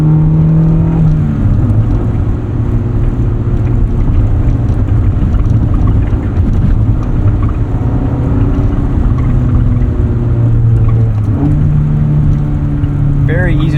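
A 1988 Honda CRX Si engine drones loudly from inside the cabin as it is driven on the road, its pitch rising and falling through manual gear changes, with constant road and wind rumble and a voice talking throughout.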